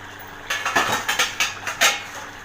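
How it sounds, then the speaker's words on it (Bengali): Metal pan lid lifted off a pot of chicken keema with potatoes, several short clinks and clatters close by, clustered within a couple of seconds, no talk. "পাঁচ মিনিট পর আমি ঢাকনাটা তুলছি"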